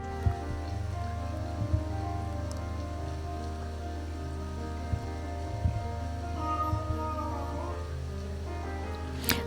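Heavy rain falls steadily in a forest scene of the horror RPG Kirisame Forest remake, a constant soft hiss beneath quiet sustained music tones, with a few small clicks.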